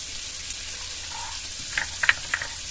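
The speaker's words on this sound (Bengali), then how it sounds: "গরম কড়ায় আমগুলো খানিকক্ষণ একটু ভেজে নেব।" Raw mango pieces fry in a hot kadai, giving off a faint, steady sizzle that breaks into a few small crackles and pops toward the end.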